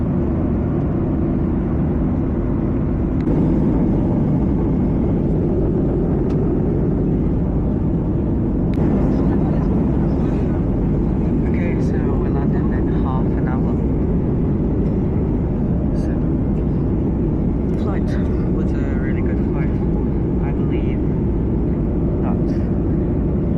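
Steady, loud broadband drone of a Hainan Airlines jet cabin in cruise, a continuous low roar with faint clinks and murmurs of cabin activity on top.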